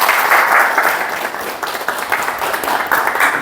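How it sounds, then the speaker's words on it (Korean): An audience at a lecture forum applauds to welcome the speaker, dense steady clapping from a crowd filling the room for a few seconds. "박수로 맞이해 주시기 바랍니다."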